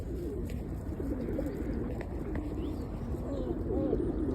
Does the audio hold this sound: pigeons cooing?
yes